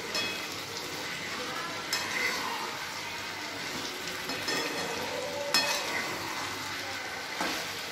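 Boiled potato samosa filling with tamarind paste is stirred in a pan. A soft, continuous scraping and sizzling runs throughout, with a few sharper clinks of utensil against metal, and no talking.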